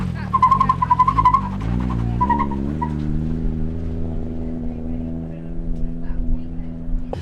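Nissan S14 drift cars run at Pembrey, a loud sustained engine drone with rising pitch sweeps that settle into a steady roar, heard under a speaking voice.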